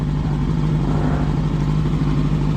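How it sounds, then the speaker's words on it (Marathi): Motorcycle engines running after being started on the way to an IBW bike event at night, a steady close low rumble filling the short stretch with no talk. "आणि आता गाडी चालू केल्या."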